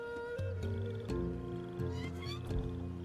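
Jungle ambience woven into video game background music for Sumpter, with shifting tonal layers and animal-like calls, cat-like cries and squeals popping up every half second or so over a steady, full musical bed.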